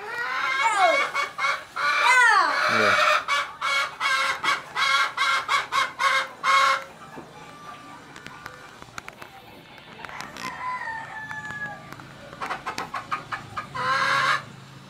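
A person imitates a hen clucking, with rapid repeated cackling calls in bursts, then quieter stretches and a final loud burst of clucks, close and alone without other talk.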